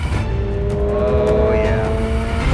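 A 2022 Subaru BRZ accelerates hard on a race track, its engine note rising loudly and steadily with a sweeping whine climbing in pitch, close and continuous, with faint tire noise underneath.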